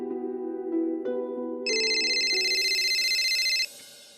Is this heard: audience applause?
no